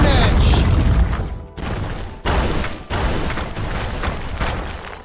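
Rhydon's Stone Edge attack in a Pokémon fan dub lands as a loud, rumbling explosion effect, a heavy blast cut into several abrupt crashing surges that hit back to back.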